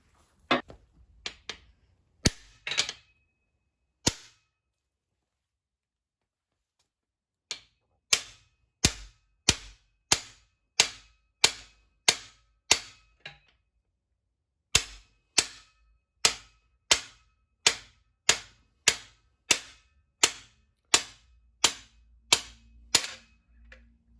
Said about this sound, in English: Got my big fucking hammer, and I'm gonna take a couple swings of this